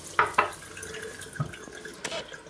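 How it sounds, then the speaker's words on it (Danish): Water from a tap poured into a glass to thin a small amount of descaler for a clogged faucet, a short splashy trickle with a few clinks near the start, close and fairly quiet. "Og så skal vi lige have en lille smule vand."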